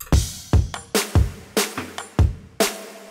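Crash cymbal hits in a melodic bass track, about eight loud, sharp strikes in an uneven rhythm, each with a bright splash and a low thump, then a short decaying wash.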